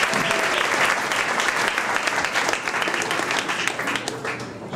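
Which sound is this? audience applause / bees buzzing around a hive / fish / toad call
audience applause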